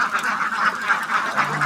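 Ducks quack repeatedly in a confined pen, a steady run of nasal calls close by with no talking.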